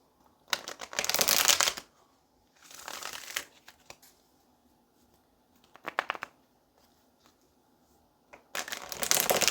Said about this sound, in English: So let's go ahead and pull some tarot.